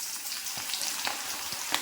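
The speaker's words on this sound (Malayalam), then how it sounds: "നമുക്ക് ഇതേപോലെ നമ്മുടെ മാങ്ങ എല്ലാം ഇങ്ങ് വറുത്തെടുക്കാം" Mango pieces fry in oil, making a soft continuous sizzle with small popping crackles scattered through it, heard close by and fairly quiet, with no talking.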